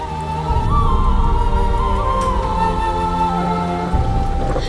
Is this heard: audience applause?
no